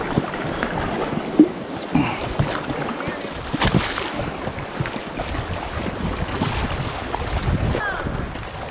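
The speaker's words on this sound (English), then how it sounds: "Keep rowing until I say stop rowing." Paddles work through the water while rowing an inflatable funyak on the Dart River near Queenstown, New Zealand, with steady splashing, wind buffeting the microphone and people talking.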